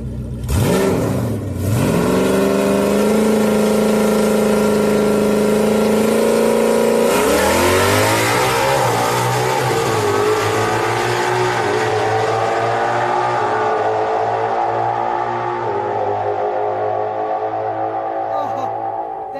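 A Gen 3 naturally aspirated Ford Mustang launches down a drag strip, its engine loud and close, revving hard through rising gear pulls with a shift, then a long sustained high-rpm roar fading slightly at the end.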